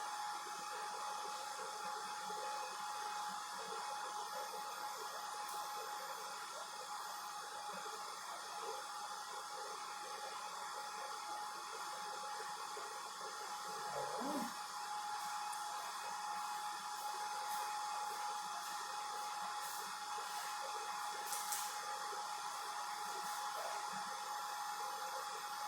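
A Model 5830 BGA rework machine runs its heating profile on a small chip, giving off a steady fan-driven hot-air whoosh with a faint high whine, even and unbroken throughout.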